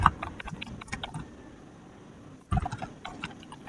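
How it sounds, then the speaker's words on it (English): Keystrokes on a computer keyboard as text is typed for a school graduation invitation design, coming in two bursts of quick, close clicks separated by a pause of near silence. "I will click on my text tool and start typing the text that I need"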